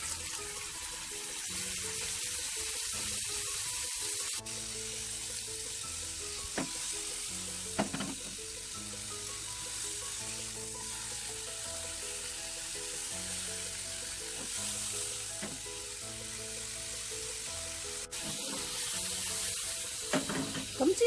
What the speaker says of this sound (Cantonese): 先煎一煎啲鹹魚